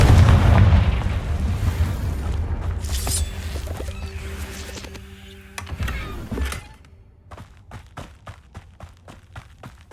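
Confringo spell blasts in the video game Hogwarts Legacy go off as loud booming explosions in several bursts, followed by a fading run of sharp crackling pops and clicks.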